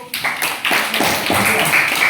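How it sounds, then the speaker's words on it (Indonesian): A short burst of hand clapping from a small group of students in a classroom math lesson, steady and fairly close, with a few murmured voices underneath. "tepuk tangan dulu untuk."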